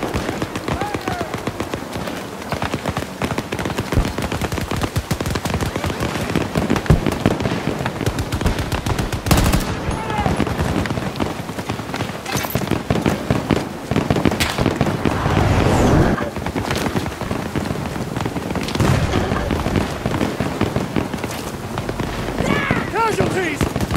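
Relentless automatic gunfire and explosions from a Battlefield 2042 battle rattle on continuously for over twenty seconds, loud and dense, with occasional shouted voices mixed in.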